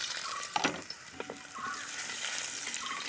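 Ginger hisses and crackles as it drops into hot coconut oil with fenugreek in a heavy bronze uruli, a steady close sizzle broken by a few brief stirring clatters, with no voices.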